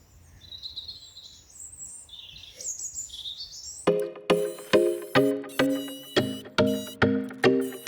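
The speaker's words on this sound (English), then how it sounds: "You hear the birds?" Birds chirp outdoors at a middle distance, with high, scattered calls for the first few seconds. Then a loud, rhythmic string of regular pulsing tones takes over.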